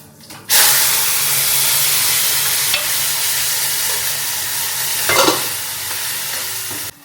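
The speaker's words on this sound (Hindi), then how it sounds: "तो मैं यहाँ पे बना रही हूँ ओनली टमाटर डाल के पनीर की भुर्जी।" Paneer bhurji with tomatoes fries in a pan, a loud steady sizzle that bursts in suddenly and continues throughout, with brief scraping stirs partway.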